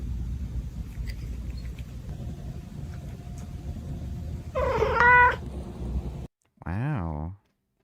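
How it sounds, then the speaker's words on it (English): Cat sound effect played during a stream, two short warbling meows, the second cleaner and louder after a brief silence, following a stretch of rumbly background noise. "Made a kitty noise."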